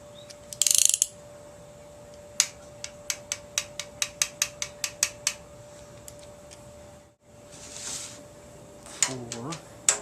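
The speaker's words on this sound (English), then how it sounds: "I'm going to turn it around and go in the sequence. 20 foot-pounds really isn't that much." A torque wrench ratchets as it tightens intake manifold bolts during an engine build, giving a close, evenly spaced run of sharp clicks with brief handling noises before and after.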